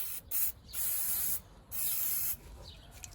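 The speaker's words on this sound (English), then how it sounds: "And again, we start with some penetrating oil." Penetrating oil sprayed onto a rusty ball joint on a 2014 Kia Sportage 2.0 CRDI front suspension, three short hissing bursts from an aerosol can, close and clear.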